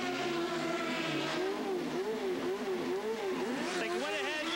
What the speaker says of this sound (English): As Rahal accelerates, look at him.